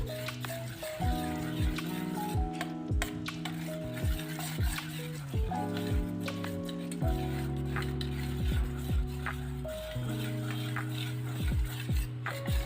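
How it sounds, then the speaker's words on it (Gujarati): A whisk beats spiced batter in a bowl with quick, rhythmic clinking strokes against the sides, steady and close, over faint background music. "હવે ફરી વખત આપણે વિસ્કરની મદદથી સરસ રીતે હલાવી અને મિક્સ કરી લઈશું"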